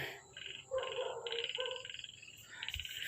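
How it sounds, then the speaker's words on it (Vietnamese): Frogs croaking at dusk in a Central Highlands durian orchard: a dense chorus of rapid, pulsing calls overlapping at moderate distance, steady throughout with no voices. "Khi đã nghe tiếng ếch nhái kêu là các bạn chị biết là trời đã tối."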